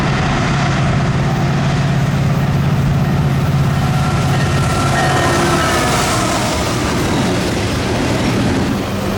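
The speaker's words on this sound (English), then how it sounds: "the first train we ended up catching was this Norfolk Southern eastbound intermodal with an ace leader" Norfolk Southern eastbound intermodal freight train with an ACe lead locomotive passing close by on the Chicago Line, a steady loud rumble of engines and rolling cars with wheel clatter throughout, no voices.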